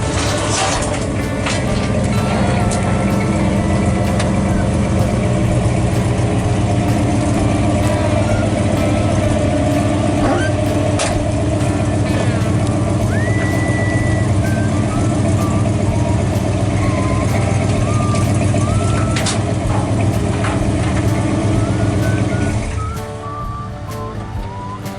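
1983 Chevy 4x4 truck engine idling, a constant low mid-pitched rumble that runs steadily and loudly, with scattered knocks and clatter on top, then drops away near the end.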